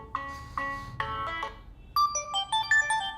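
Ringtone melody from a OnePlus X phone played through its single mono speaker: a bright, tonal electronic chime of short repeated note bursts, moderately loud and close, with no talking.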